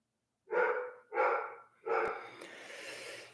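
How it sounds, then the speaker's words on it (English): Three loud barks from the speaker's dogs, close by, in a quick uneven series, the last one trailing into a breathy, rumbling tail. "Listen to my dogs. They're barking."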